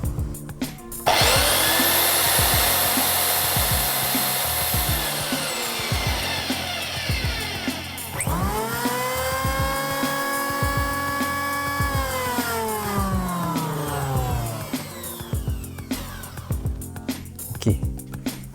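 A Humhon tank-style belt sander runs on wood in a workshop, compared with an electric planer: loud whining motor drones rise and fall in two long runs, with rhythmic knocking and bumps underneath.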